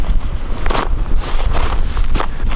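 Strong wind blasts across a frozen lake during ice fishing, roaring and buffeting the microphone in loud, uneven gusts throughout.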